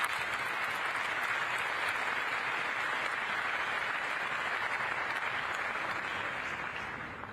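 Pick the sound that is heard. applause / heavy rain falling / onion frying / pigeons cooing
applause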